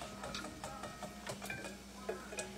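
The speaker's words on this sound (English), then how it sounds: "whisk them together, fully combined" A whisk beats eggs in a bowl, making quick, quiet, irregular ticking clinks against the bowl's side, with a faint background hum throughout.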